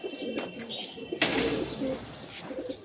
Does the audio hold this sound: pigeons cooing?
yes